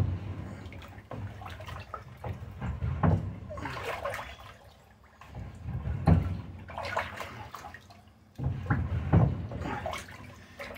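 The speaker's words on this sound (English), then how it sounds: "Coat the top with some yeast. And I'll give it a quick stir." Peach brandy mash sloshes and swirls as yeast is stirred in, with three rounds of wet, splashy stirring separated by short lulls, close and fairly soft.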